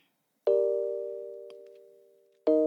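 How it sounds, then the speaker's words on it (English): A sampled Omnisphere piano plays two sustained chords about two seconds apart, each struck cleanly and ringing out with a slow decay, alone and fairly close. "I then added a piano from Omnisphere"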